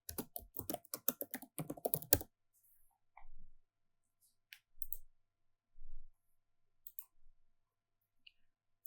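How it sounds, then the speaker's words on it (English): Rapid, quiet typing on a computer keyboard, a burst of close key clicks followed by a few scattered clicks and soft thumps, no speech. "We'll enter the comment and click submit."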